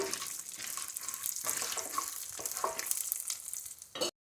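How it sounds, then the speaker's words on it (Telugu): Tempering seeds and peanuts fry in hot oil for semiya upma, a steady close sizzle with occasional stirring scrapes that stops abruptly just before the end. "తాలింపు గింజలు వేగినాయండి"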